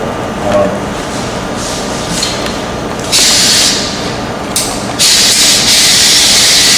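A Wagner GM5000 electrostatic sprayer with a round nozzle releases bursts of loud steady hissing spray, two long blasts switching on abruptly over a low background hum.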